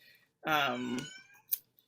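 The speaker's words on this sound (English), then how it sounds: "my cat is crying very aggressively" A cat lets out one loud, drawn-out meow close by, followed by a short faint sound, in an otherwise quiet indoor setting.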